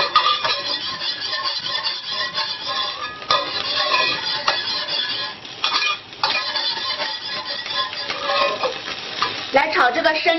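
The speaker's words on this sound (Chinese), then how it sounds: "来炒这个生牛油" Raw beef tallow cut into small pieces is stirred in a pot over low heat for Huainan beef soup, giving a steady close sizzle and frying crackle with scraping stir strokes throughout.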